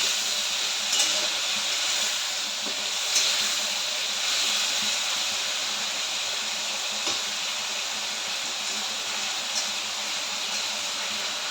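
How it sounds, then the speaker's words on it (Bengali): Shrimp fry in hot oil in a pan for shrimp pulao, giving a steady, even sizzling hiss with faint pops, constant and close throughout, with no talking. "তার জন্য দেখো চিংড়ি মাছ ভাজা বসিয়েছি"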